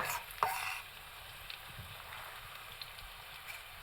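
Onion and garlic hit hot olive oil in a pan over medium heat, a sharp initial crackle and stir settling into a steady close sizzle with occasional small pops.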